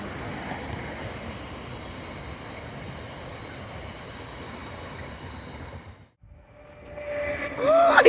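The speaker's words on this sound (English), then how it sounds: "A very colourful graffiti train." A graffiti-painted train rumbles past nearby with a steady broad roar of wheels on rails, fading briefly before rising again as more cars pass and a faint squeal appears near the end.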